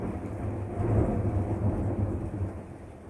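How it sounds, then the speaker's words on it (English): Thunder rolling in a storm, a loud low rumble that swells and lingers for a few seconds over a steady hiss of rain, with no talking. "I don't know if the thunder was agreeing with me or it's telling me that I'm lying."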